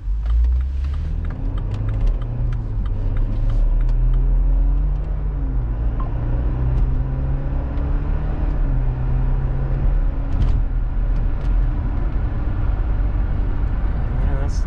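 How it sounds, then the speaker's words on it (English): A 2014 BMW X3 xDrive28i accelerating at half throttle, heard from inside the cabin as a steady, low engine and road drone that swells and dips slightly through gear changes, continuous and moderately loud. "We'll give it about half pedal and I'll be quiet so that you can see and hear how it shifts"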